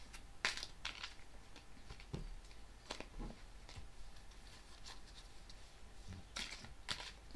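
A deck of tarot cards shuffled and cut by hand, sparse crisp slaps and flicks spaced irregularly over a quiet background, close and faint with no talking.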